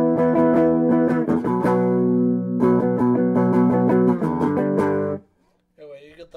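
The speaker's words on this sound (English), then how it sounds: "Let's give you some clean tones here before we get into that." Clean electric guitar chords and picked notes played through a Siren Pedals Airavata distortion pedal with the controls at noon, ringing loud and sustained for about five seconds before stopping, then a few quieter notes.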